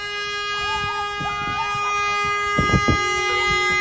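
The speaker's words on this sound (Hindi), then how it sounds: "लोगों ने हॉर्न बजाकर आभार जताया" Vehicle horns blare from a long convoy of more than 200 cars passing a doctor's house in thanks, a steady layered honking with sustained tones, loud and continuous against traffic rumble.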